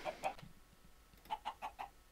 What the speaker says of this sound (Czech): no pojďte slepičky, výborně, pojďme, slepičky